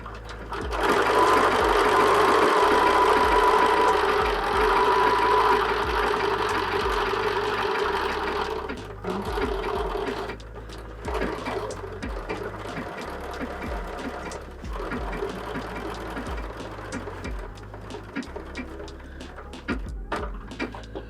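A sewing machine runs steadily in a triple stitch, sewing overlapping circles onto a holiday cushion cover, its rhythmic mechanical whir and clatter continuing for a long stretch with slight changes in pace and no talking over it.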